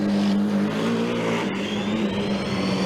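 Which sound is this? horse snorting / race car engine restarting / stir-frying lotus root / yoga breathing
race car engine restarting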